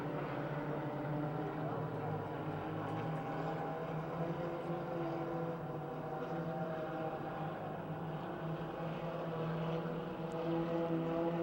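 A race car engine at Pennsylvania Motor Speedway near Pittsburgh holds high, steady revs in a continuous loud drone, with layered harmonics that barely change across the whole stretch.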